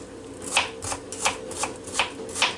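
Knife chopping a piece of onion on a board, a series of about six evenly spaced, crisp cuts in a steady rhythm, close and moderately loud.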